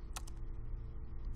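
Quick keystrokes on a computer keyboard while entering a storage command-line instruction, a few soft close taps over a low steady hum.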